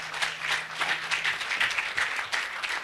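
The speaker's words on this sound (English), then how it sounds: "Let's give another hand clap to" Hand clapping from a small audience at a commemoration for women human rights defenders in Uganda, a loose patter of individual claps, fairly near, rising and falling over a few seconds.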